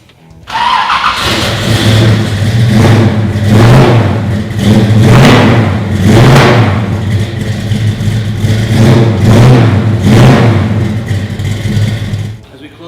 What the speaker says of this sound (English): How about I let the engine do a little talking, and I go ahead and start it up for you